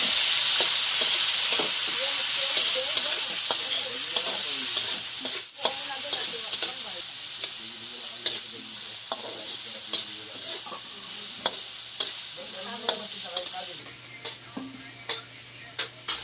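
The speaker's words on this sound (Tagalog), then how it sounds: "naggisa na po ako ng sibuyas at bawang, kamatis" Onion, garlic and tomato sizzle and fry in a pan for squid adobo, a steady close hiss broken by repeated stirring scrapes and clicks throughout.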